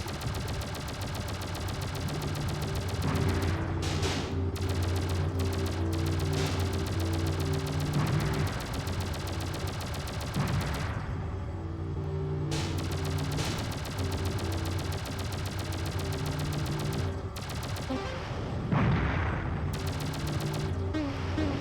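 Rapid bursts of weapon fire in the space-combat video game Shockwave Assault, homing missiles and guns rattling in clustered volleys over a steady low engine drone, with no talk.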